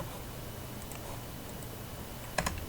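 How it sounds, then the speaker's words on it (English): Keys are typed on a computer keyboard while entering an AutoCAD command, faint scattered taps ending in a sharper double click near the end, no talking. "so we can type BO in our command, hit enter. Type BO again."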